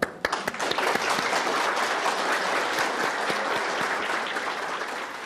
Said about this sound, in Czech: Já si zatleskám takhle.